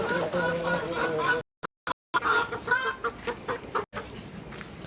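Farm chickens cluck in short, repeated bursts near a fish-pond homestead, moderately close, while a person talks over them. The sound briefly cuts out a few times.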